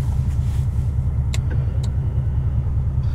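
A manual 2015 Chevrolet Corvette C7 Stingray with aftermarket exhaust, headers and cam rumbling from inside the car, a deep, loud, steady lopey engine drone with a couple of faint clicks over it.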